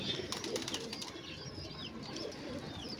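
A fancy flying pigeon outdoors, with soft coos and a brief flutter of wings among faint chirps from other birds.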